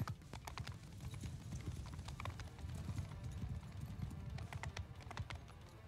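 Galloping horse archers in the Mount & Blade II: Bannerlord video game, a dense, continuous drumming of many hooves in a steady rush, close and loud throughout.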